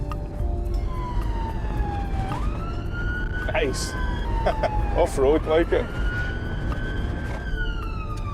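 Ambulance siren wailing steadily while the ambulance is driven on Scottish roads, loud and continuous with rising and falling sweeps, as people talk inside the cab over the engine rumble.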